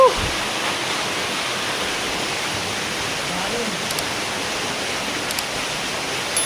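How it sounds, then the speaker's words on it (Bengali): Steady broadband roar of monsoon water plunging down a waterfall into a sinkhole at Cherrapunji, Meghalaya, continuous and dense throughout with no break. "এই ওয়াটারফলটা এখান থেকে একটা সিঙ্ক হোল ক্রিয়েট হয়েছে, আর সেই সিঙ্ক হোল থেকে জল কিন্তু নিচে নেমে আসছে"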